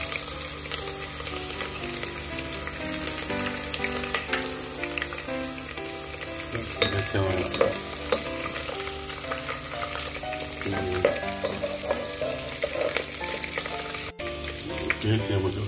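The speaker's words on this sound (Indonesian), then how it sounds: "Kita masukkan halia dan bawang putih." Onions, lemongrass, ginger and garlic frying in a pan for tomato rice, producing a dense, continuous crackling sizzle with spatula stirring scrapes and clinks throughout, no voices.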